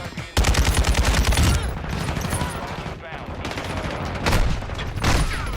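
Gunfire in a Call of Duty League match. A loud, rapid automatic burst is followed by scattered shots and a busy game mix.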